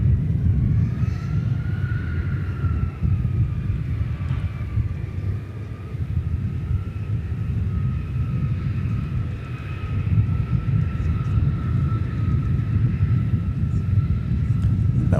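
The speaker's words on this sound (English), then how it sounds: "It's a Miraflight freight aircraft, which is probably not going to take too very long to get off the ground." A freight aircraft takes off at DFW Airport, its loud continuous low roar and rumble sustained throughout with a rising and falling whine on top, heard from the ground nearby.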